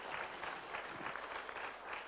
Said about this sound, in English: Can we give these people a huge round of applause